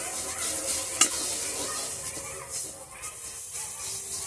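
Ginger and garlic fry in a little butter with a soft, steady sizzle close by, broken by a sharp clink of a spoon on the pan and gentle stirring scrapes.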